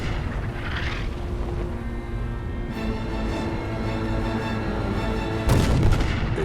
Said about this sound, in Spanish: Mientras el Hood se hunde, la artillería de proa dispara la salva final.